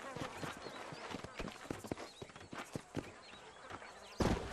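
Horses' hooves clip-clopping in the Red Dead Redemption video game, a steady rapid stream of hoofbeats over a busy outdoor soundscape, with a character's voice talking along.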